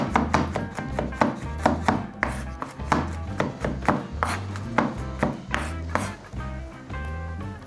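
Repeated knife chops on a cutting board while chicken wings are cut up for a quick snack, a steady run of sharp, close thuds with low board knocks, carrying on alone at an even pace.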